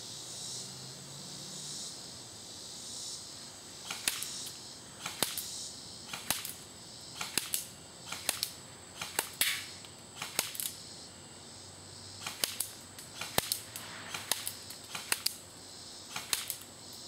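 An airsoft AEG rifle fires about a dozen sharp, close shots at a paper target, spaced irregularly, some in quick pairs, over a steady background hiss with no talking.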